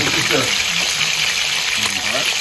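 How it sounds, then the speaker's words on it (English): Water poured into a big pot of seafood sitting back on the fire, a steady rushing splash that holds at an even level from start to finish. "Pour a little water in it."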